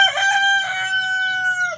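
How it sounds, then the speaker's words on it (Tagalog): Male Australorp rooster crowing once, close and clear, a single drawn-out cock-a-doodle-doo with a strained, sustained final note, nothing else heard. "Ito yung Astralorp na lalaki."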